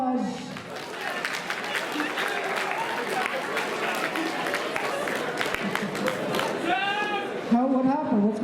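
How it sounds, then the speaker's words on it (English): An audience at a late-night college show claps in a steady wash of applause, with voices and talk mixed in and a couple of louder calls toward the end. "Let's give another round of applause."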